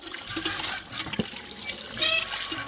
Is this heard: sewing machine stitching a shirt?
no